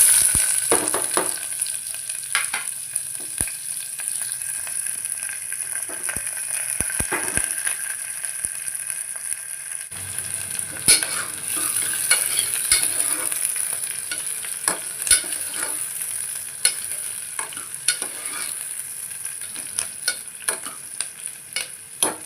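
Continuous sizzling of cumin in hot oil as a tempering for rice, with frequent stirring scrapes and clicks, steady and close throughout, growing slightly louder midway.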